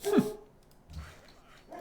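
A dog indoors at home gives a single sharp bark at close range, followed by quieter low rumbling and faint room noise.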